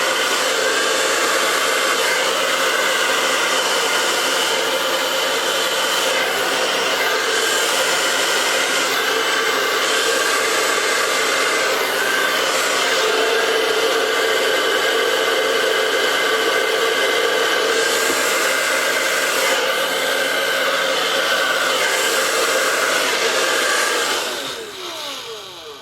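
A hair dryer blows steadily across wet acrylic paint in a black and metallic Dutch pour, a loud continuous whooshing hum that holds nearly unchanged for the full length before tapering off at the end.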